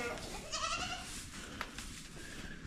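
Beef cattle on an Indiana farm in cold weather call out in a couple of drawn-out bleating moos, moderately close against a noisy background, with no talk.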